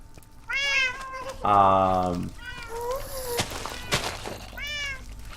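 Several harmonic cat meows from a wither kitty mob in a Minecraft modpack, stacked and close, with a longer buzzy tonal burst, a sharp thunk and more mewing calls between them, and a voice talking underneath.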